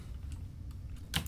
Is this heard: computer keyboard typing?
yes